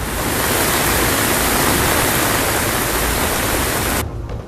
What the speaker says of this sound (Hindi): यहाँ पानी जब आपे से बाहर हुआ तो रिहायशी इलाके की तरफ बढ़ने लगा और इसकी आवाज ही डराने के लिए काफी नजर आई